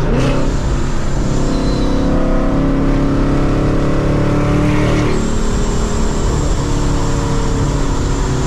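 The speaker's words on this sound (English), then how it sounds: "The exhaust is ridiculous, and then you have the blower." A loud, deep supercharged V8 engine of a 700 hp Mustang roars continuously with rising and falling revs and a high supercharger whine layered over the exhaust rumble, close up.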